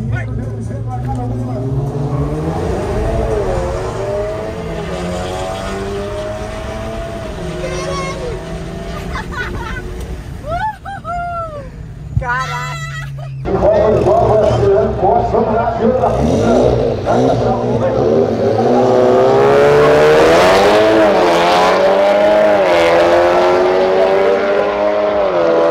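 VW Jetta TSI Stage 3 engine revving hard and accelerating in a drag race, a loud sustained roar rising in pitch through gear changes, with people talking over it.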